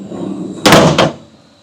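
A sliding door runs across and slams shut into its lock, a loud close rumble followed by a second hard thud, then fading to quiet room tone.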